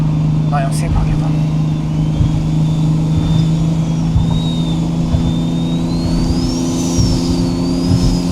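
A Nissan Stagea RS Four S engine hums steadily at a constant pitch, with a rising and falling whine and some cabin noise.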